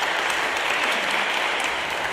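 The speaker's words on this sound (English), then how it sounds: "Just give Asher a round of applause." Continuous audience applause at St Peter Mancroft church, a thick, even wash of many hands clapping throughout the brief moment with no pauses.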